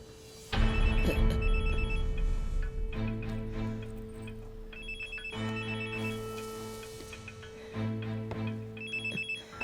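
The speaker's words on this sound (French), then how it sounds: "Je vais couper le téléphone pour qu'on puisse parler." Telephone ringing indoors in repeated electronic ring bursts separated by short pauses, moderately loud over a faint background hum.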